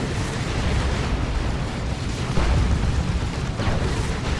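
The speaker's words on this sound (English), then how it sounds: "That is a rocket run." A rocket run strikes a battlefield of Orks in the strategy game Dawn of War 2, a continuous dense roar of overlapping explosions and rumbling blasts with a few sharper bursts rising out of the din.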